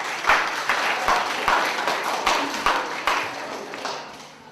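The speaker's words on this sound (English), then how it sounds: "Give yourselves a round of applause, guys." A group of people clapping at the close of a motivational talk on an engineering challenge, giving a dense round of applause with sharper individual claps that gradually thins and fades out.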